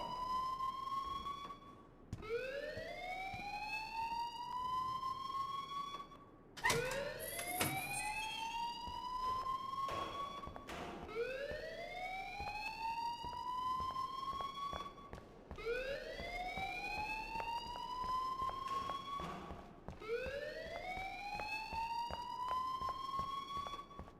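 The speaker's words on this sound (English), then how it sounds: "please turn off that alarm since that's your job" A fire alarm blares in the video game Life is Strange, inside a high school: a loud electronic tone that sweeps upward and holds, repeating about every four seconds with a brief break near the start.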